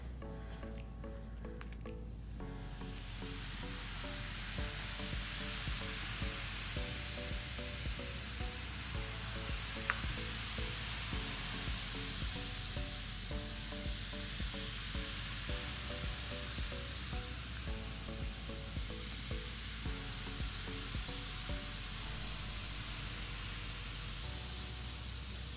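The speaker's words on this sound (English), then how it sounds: "when they connect, they create a chemical reaction and stuff starts to sizzle and pop" A continuous bright fizzing hiss, like bubbling foam, from vinegar reacting with baking soda, sustained and even throughout over soft background music.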